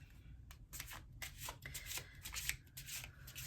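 Tarot cards shuffled close up in a quiet room, a run of crisp riffling and sliding bursts with short pauses between them.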